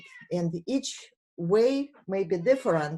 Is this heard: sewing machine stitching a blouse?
no